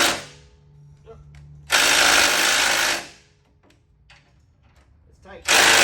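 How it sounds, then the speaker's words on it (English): Power impact tool bursts loosening a factory bolt with an 18 mm socket on a vehicle cross member during a frame-mounted recovery point install: two loud, sustained rattling runs about a second long, with quieter handling noise between. "You're going to remove that factory bolt."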